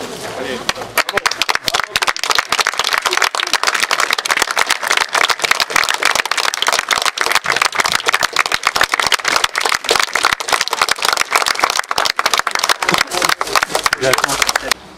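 Applause from a crowd gathered at an outdoor armistice centenary ceremony unveiling a military memorial plot, a dense steady clatter of many hands filling the whole stretch, with voices mixed in throughout.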